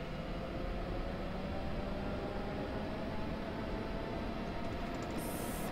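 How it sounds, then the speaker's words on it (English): A steady electric train engine in a train simulator video game drones with an even, unbroken rushing hum that neither rises nor fades. "Oh yeah, listen to the engine."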